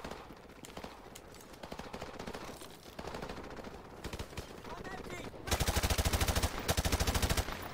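Rapid automatic gunfire in the game Call of Duty: Modern Warfare Remastered, sustained rattling bursts that grow louder and denser toward the end, close and dominant with battle noise around.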